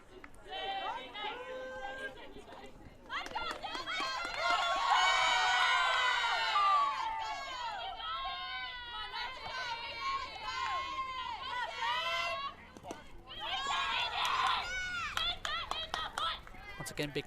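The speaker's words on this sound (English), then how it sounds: "big crowd up on the hill tonight for both of the games" Spectators at a softball game chatter, shout and cheer from a crowd on a hill, rising to louder bursts of cheering and children's voices in waves amid a constant murmur of mixed voices.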